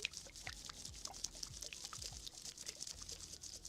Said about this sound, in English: shaking some water.